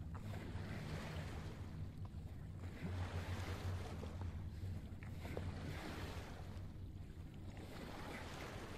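A boat paddles across water in the Silent Hill 2 Remake video game, with steady wind and lapping waves forming a continuous soft wash and occasional splashing strokes, and no voices.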